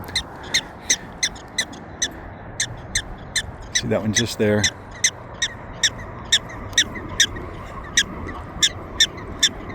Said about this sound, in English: As you can hear, there's more marmots chirping,